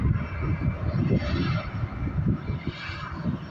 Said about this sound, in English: It's the biggest plane out here. Probably the 767